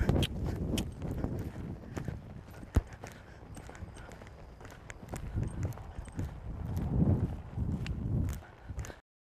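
A roan mare loping during a ride, her hoofbeats thudding in an uneven rolling rhythm for about nine seconds, with some scuffing and rustle of tack mixed in and no talk.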